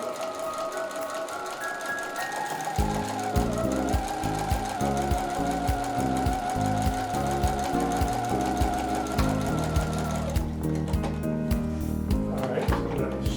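A sewing machine stitches cotton fabric for a homemade face mask, running a seam about half an inch from the edge; its rapid motor whir and needle clatter start after a quiet moment and continue steadily and close up, alone.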